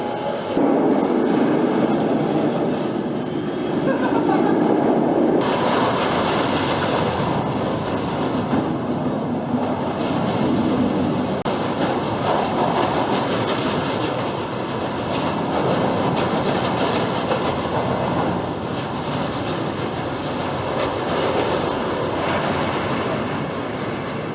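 A steady, loud rumbling roar of a roller coaster train running along its track, with continuous rattling and wind noise throughout and no talking.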